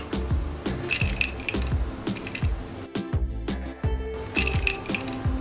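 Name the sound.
ice cubes dropped into a glass of lemon sherbet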